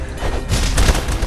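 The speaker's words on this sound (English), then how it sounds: "Dodge the bombs!" Bombs exploding in Castle Crashers, a dense cluster of thumping booms packed close together in a loud, busy burst lasting about a second, with no talk over it.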